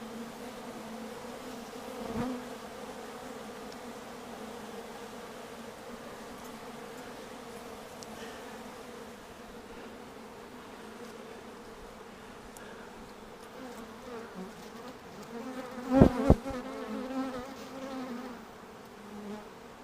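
Honeybees buzzing around a hive during a split into new colonies, a dense continuous drone with a few louder close passes and a burst of sharp buzzing near the end.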